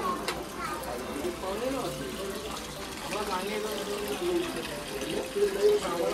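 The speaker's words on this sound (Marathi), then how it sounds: "पाणी चालूच आहे." A strong flow of cold water runs from a roadside spout on the ghat road toward Malshej, gushing steadily while people chat nearby.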